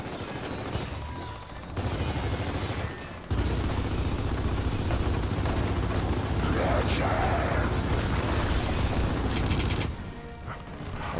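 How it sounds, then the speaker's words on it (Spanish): Rapid gunfire in Gears of War 4 crackles almost continuously, dense and loud, with brief quieter pauses at the start and end. "Unos tiros."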